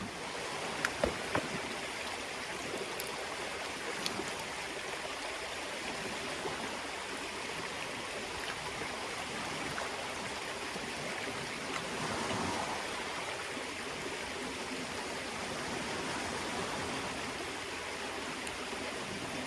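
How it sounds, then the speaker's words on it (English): Water sloshing and trickling as beach sand rich in black and garnet grains is panned at the edge of Lake Michigan, a continuous watery wash with a couple of sharp knocks near the start. "Take it over the water and we'll pan that out real quick."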